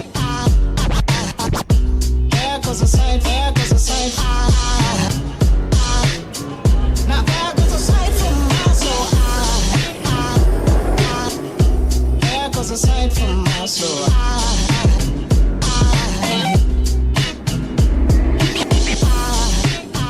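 Medusa roller coaster at Six Flags Great Adventure, a loud, continuous rattling, roaring and clattering ride throughout with track noise and wind buffeting close to the microphone.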